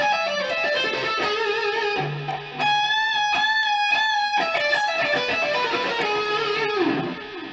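A guitar plays a melodic lick from a song, bright sustained notes and quick runs over a full band-like tone, close and prominent with no speech throughout.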